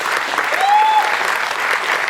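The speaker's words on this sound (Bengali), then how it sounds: "একটা জোরে হাততালি হয়ে যায়।" Full-house audience at a Bengali drama performance applauding the artists, a loud, dense and sustained wash of clapping from many hands in an auditorium, with a thin whistle-like tone rising briefly through it.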